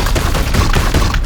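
A Purgator's cannons fire in Warhammer 40K: Chaos Gate - Daemonhunters, a short, loud, dense volley of rapid blasts that runs without a break for just over a second.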